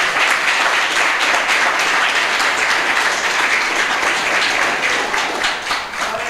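A church congregation applauds loudly and continuously in praise of a pastor's life. The clapping is a full, sustained roar that fills the room throughout.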